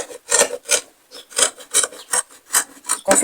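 Scissors cut through fabric for a pleated turban cap with a bow, making about ten rhythmic rasping strokes in quick succession, close and clear with no voices.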